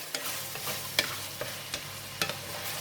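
Ground beef and basil leaves stir-fry in a hot pan, a continuous close sizzle broken by several sharp scrapes and clacks of the spatula stirring at irregular intervals.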